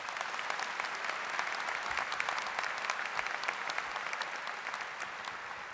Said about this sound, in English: so please give yourself another round of applause